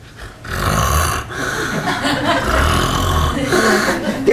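A man mimics snoring with his voice, producing a few loud, drawn-out nasal snorts and rasping breaths close to the microphone, with no other sound around them.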